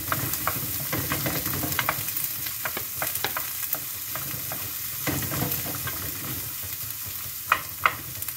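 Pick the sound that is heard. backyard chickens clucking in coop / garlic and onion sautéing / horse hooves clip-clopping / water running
garlic and onion sautéing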